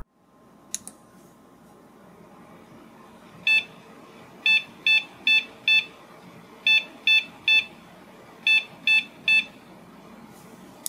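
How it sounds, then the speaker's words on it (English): Short electronic BIOS beep code from a computer motherboard with a Slot-1 CPU, sounding in an irregular sequence, clean and sharp against a low background hum, with a faint click near the start. "that one gave me a beep code"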